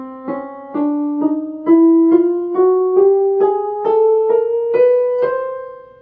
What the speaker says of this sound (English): when you are going up the chromatic scale, you use sharps. On the piano, it sounds like this